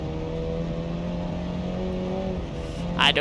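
Race car engine in the BeamNG driving game holding a steady, droning tone that slowly climbs in pitch, loud and close throughout, with a short higher burst near the end and no voices.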